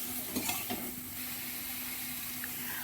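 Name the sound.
spices and raw mango being sautéed in a pan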